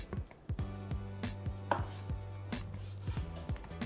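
A knife taps rapidly on a cutting board while dicing pickle finely, a brisk run of close, crisp chops in an uneven rhythm with no talking.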